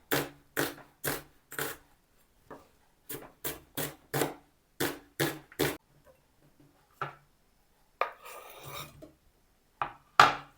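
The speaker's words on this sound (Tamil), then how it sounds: "ஒரு பெரிய வெங்காயம் எடுத்திருக்கிறேன் இதை வட்டி சேர்த்துக்கொள்கிறேன்" A knife chops a large onion for Jaffna-style cassava curry on a board, giving sharp, evenly spaced close thuds in quick groups with pauses between, then a brief scrape.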